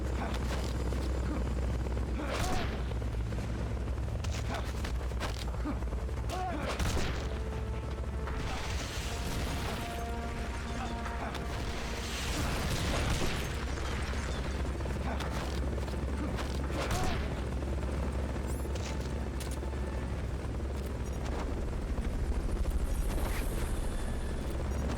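Helicopter in the video game Metal Gear Solid: Peace Walker, a steady low rotor drone running throughout beneath mechanical clanks and game effects, with scattered bursts and booms.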